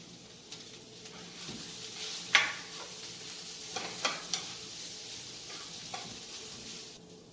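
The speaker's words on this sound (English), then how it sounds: "With the heat now at medium-low and the peppers and onions slightly sauteed, I'll add in 3 large cloves of garlic and I'll crush those in." Garlic, peppers and onions sauté in a pan at medium-low heat for shakshouka, a soft continuous sizzle broken by a few sharp scrapes and clicks of stirring, fairly faint and without speech.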